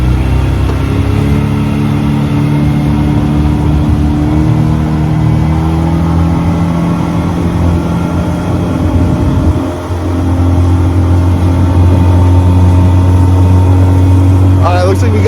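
A J16 Carolina Skiff outboard motor drones loud and close as the boat runs across the water, holding steady before dipping briefly and climbing again.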